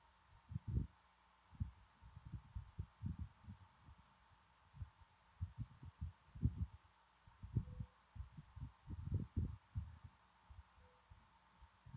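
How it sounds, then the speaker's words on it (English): Deep, rumbling Scania V8 truck engine in American Truck Simulator reverberating inside a tunnel, a steady low throb with irregular pulsing swells, fairly loud and alone without talk. "Oh, the reverb in the tunnel is quite nice."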